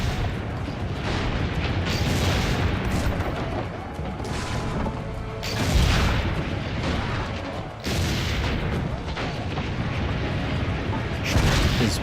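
Cannon fire during a siege in Assassin's Creed Brotherhood, with repeated heavy booms and crashing blasts every few seconds over a constant roar of battle noise, loud and dense.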